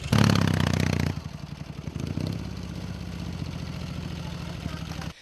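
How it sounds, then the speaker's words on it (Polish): A restored 1983 WSK 125 PZL Świdnik motorcycle runs with a loud two-stroke engine burst at first, then settles into a steady, close rattling idle for the rest of the stretch. "Jest to motocykl WSK 125 PZL Świdnik, rok produkcji 83."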